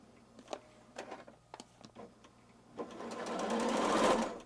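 A Janome sewing machine being serviced for a thread cutter error, first a run of separate mechanical clicks and knocks, then a rising sustained whirring stitch run close by.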